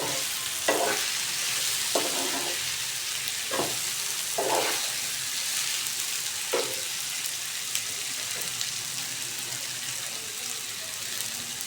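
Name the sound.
raw banana pieces stirred and frying in a pan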